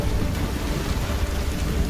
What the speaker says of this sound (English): The monsoon rains signal an end to the dry season.